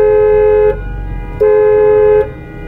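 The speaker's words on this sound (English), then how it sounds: "I bet you if we honk, everyone else will honk too." Two long, loud car horn blasts sound one after the other, each steady for most of a second with a short gap between them. No one speaks.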